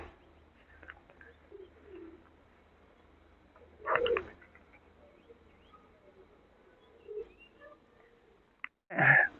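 Quiet outdoor stillness at a historic stepwell pond in Santebennur, broken by a few brief, scattered bird calls, including soft dove-like coos.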